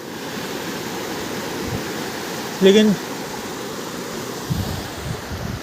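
A river flowing fast after heavy rain, a steady broadband rush of water that fills the clip. Someone speaks briefly over it partway through, and a gust of wind noise hits near the end.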